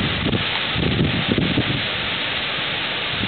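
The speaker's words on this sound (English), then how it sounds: "There's another big gust." Strong wind gust tearing through trees during a sudden Pacific Northwest storm, a loud sustained roar with rustling leaves and buffeting microphone noise, no voices.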